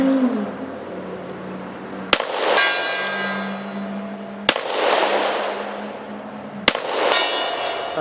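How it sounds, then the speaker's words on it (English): Three sharp .38 Special revolver shots ring off a steel gong, evenly spaced about two seconds apart, each crack followed by a long, fading metallic shimmer. "Let's hit the gong."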